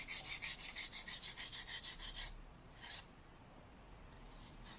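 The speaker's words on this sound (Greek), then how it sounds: "Ξύνω το καρβουνό μου είτε με ένα κοπίδι ή αν δεν έχω κοπίδι με ένα γυαλόχαρτο." Rapid rhythmic scraping of a charcoal stick with a craft knife or sandpaper, about a dozen close, even strokes for two seconds, then one short scrape and quiet.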